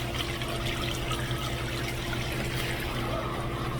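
Water running and trickling as a portable camping toilet bag is filled about halfway and leaks, a steady close liquid wash with a low hum underneath throughout.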